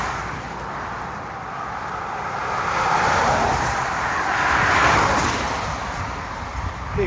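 Cars pass on a roadway beside the Appalachian Trail, a broad rushing swell of tyre and engine noise that builds twice as vehicles go by, fairly loud and close, with steady traffic hiss underneath.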